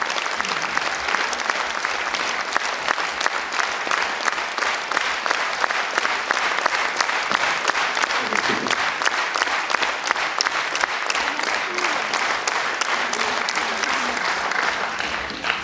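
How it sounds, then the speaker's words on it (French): Sustained applause from a festival audience after a film screening, dense steady clapping throughout with a faint voice briefly surfacing partway through. "les applaudissements du public montrent qu'ils ont apprécié ton film"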